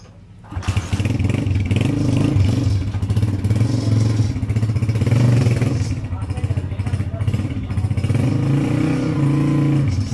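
Motorcycle engine starting and revving, a rough idle that catches after a brief quiet start and keeps a loud, steady throbbing chug with slight swells throughout, close by.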